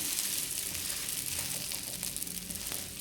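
Adai dosa batter frying on a hot pan gives a steady, dense sizzle throughout, close and even, with no talk over it.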